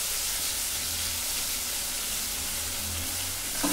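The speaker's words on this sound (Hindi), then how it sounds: "अब हम इसको अच्छे से भून लेंगे" Garlic and tomato fry in a pan with a steady, dense sizzle and hiss that stays loud and close for the whole stretch.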